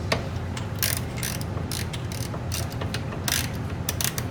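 A ratchet tightens a hood bolt on a 2010–2015 Chevrolet Camaro SS, giving rapid bursts of close, crisp clicking in short uneven runs over a low background rumble.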